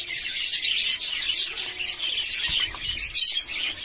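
Several pet budgerigars kept in a cage chatter and chirp continuously, their high, busy twittering close and lively, with brief rustles of movement.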